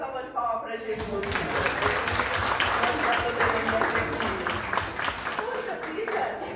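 A church congregation claps together at a worship service, a steady dense patter of many hands that runs unbroken after a brief start, with voices and singing-like tones mixed in underneath.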